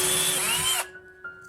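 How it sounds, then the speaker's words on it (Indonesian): A power drill spins into an old hinge screw hole in a cabinet, a brief high whir that cuts off abruptly, followed by a faint click. "Bor lubang lama agar sedikit lebih lebar."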